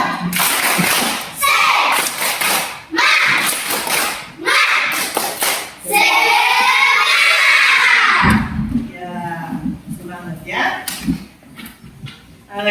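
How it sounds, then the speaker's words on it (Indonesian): An elementary class performs a rhythmic spirit clap, bursts of patterned hand claps alternating with children chanting in unison, the voices growing louder and sing-song toward the end. "Tepuk semangat!"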